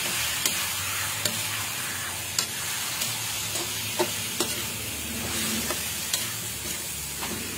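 Chicken sautéing in a pot for Bicol Express, a constant close sizzle with occasional spoon clacks and scrapes against the pot, no talking.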